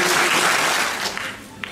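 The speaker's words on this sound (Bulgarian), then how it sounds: "Аплодисменти." Applause from an audience at a municipal school awards ceremony in Burgas, a dense, steady clapping that fades slightly toward the end, with no talk over it.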